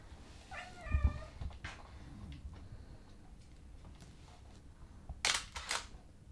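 A cat being held in place for a photo shoot lets out a short wavering meow, followed by faint rustling and the crisp shutter clicks of a single-lens reflex camera.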